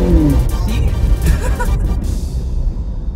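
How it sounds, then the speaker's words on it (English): A 2019 Suzuki Jimny fitted with a pedal box revs high, its engine giving a loud, steady roar and rumble that fades slightly toward the end. "It's because the car is revving higher."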